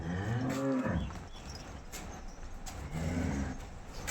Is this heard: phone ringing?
no